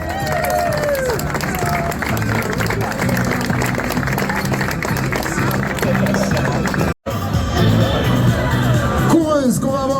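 A crowd at a Granfondo Vosges cycling prize ceremony in La Bresse cheers and claps steadily and loudly for a Medio Fondo 60-64 female category winner from Great Britain, with a brief break and an announcer's voice talking through the noise.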